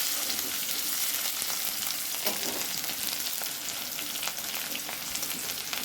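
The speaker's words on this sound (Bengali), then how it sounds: "এর মধ্যে দিয়ে দিচ্ছি কেটে রাখা পেঁয়াজ কুচি, তার সাথে টমেটো কুচি, ভালোভাবে নেড়ে চেড়ে" Chopped onion and tomato fry in a hot pan, giving a steady dense sizzle with scraping stir strokes throughout, close and fairly loud with no talking.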